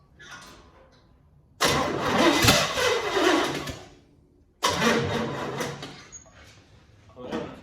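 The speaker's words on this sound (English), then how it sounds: "Let me push in my clutch when we start this as well." A 1963 Chevy C10 pickup under restoration is cranked with the clutch pushed in, its engine catching in a loud rough burst, dying, then turning over again in a second strong attempt nearby.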